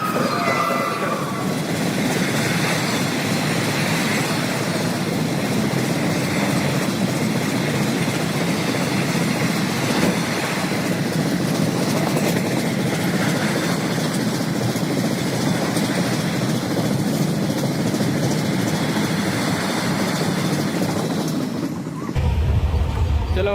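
Train rushing past at close range on railway tracks, a loud continuous rumbling roar with rattling wheels that holds steady for over twenty seconds before cutting off abruptly.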